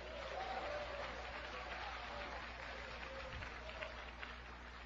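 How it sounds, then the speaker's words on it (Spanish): A church congregation claps together in steady, dense applause through a Spanish-language Christian sermon, a continuous crowd of hands filling the space without a break. "Dele palmas al Señor Jesucristo."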